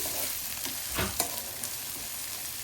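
Tender tamarind leaves, with some older ones, frying in oil, a soft continuous sizzle with a brief burst of stirring scrapes in the middle.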